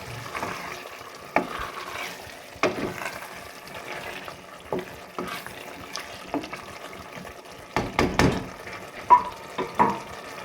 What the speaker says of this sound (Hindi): ऑयल डालने के बाद इसे मैं फिर से एक बार मिक्स कर दूँगी।